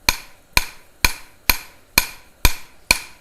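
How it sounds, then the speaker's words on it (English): A ball peen hammer with a broad, rounded face strikes hot forged metal in seven evenly spaced, sharp ringing blows about half a second apart, close and clear with nothing else heard. "I'm using a ball peen"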